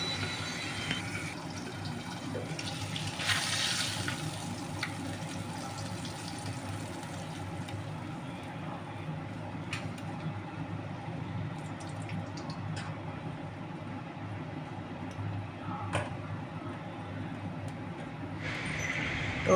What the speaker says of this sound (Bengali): আর এই মাছ ভাজাটা জোর জালেই ভাজবো